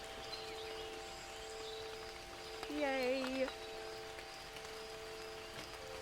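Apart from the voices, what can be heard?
soft ambient recording of rain and wind chimes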